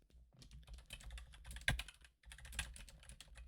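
Keys on a computer keyboard clatter in irregular bursts, close and crisp, with one louder stroke and a short pause before the typing resumes.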